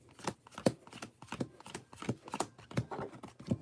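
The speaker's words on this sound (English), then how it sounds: "Time to shuffle." Pokemon trading cards are shuffled by hand close up, giving quiet, rhythmic riffling snaps that repeat roughly every third of a second.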